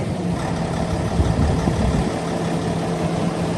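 A 2013 Peterbilt 386 truck's diesel engine idles just after starting up, a steady close rumble with a slight swell in the middle, heard alone.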